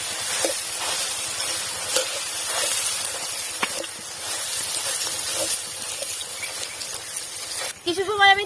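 Tamarind fries in mustard oil in a wok, a low steady sizzle under regular scraping strokes of a spoon, with a brief louder hiss at the end.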